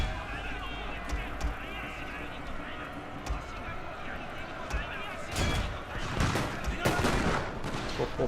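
Musket gunfire in the Shogun 2 Total War battle, with volleys crackling and popping amid battlefield noise and a few sharper shots near the end, with someone talking over it.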